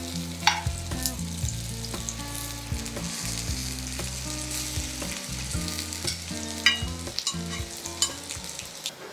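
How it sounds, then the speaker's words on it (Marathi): Paneer cubes frying in a hot pan, turned with tongs to crisp the edges: steady oily sizzling throughout with soft clinks and scrapes of tongs against the pan, close and continuous, no voices. "हे असं चिमट्याने अलगद उचलायचं आणि कडा देखील खरपूस करून घ्यायच्या"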